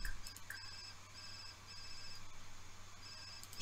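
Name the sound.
mobile phone ringing in the video game The Sims 4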